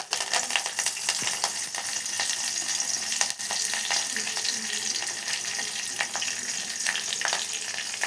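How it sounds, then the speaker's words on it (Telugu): Crushed garlic and curry leaves fry in hot oil in a pan, giving a steady, close hiss and crackle that holds for the whole stretch, with a few faint clinks under the sizzle. "కొట్టేసుకున్న ఎల్లిపాయలు వేసుకొని అవి ఎర్రగా వేగే లోపల"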